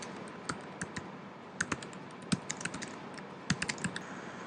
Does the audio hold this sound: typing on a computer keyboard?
yes